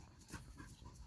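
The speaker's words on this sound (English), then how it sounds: "Y'all excuse that hyper dog." A dog pants quickly and steadily up close, with quick breathy huffs and no talking.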